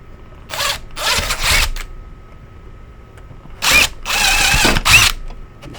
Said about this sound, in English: we're just going to go ahead and drill this out